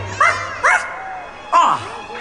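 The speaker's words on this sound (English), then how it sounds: "Where is that dog?" Several sharp, mid-pitched yips and barks from a small dog at a Halloween stage show, three distinct calls spaced unevenly, fairly close and clear with a reverberant tail.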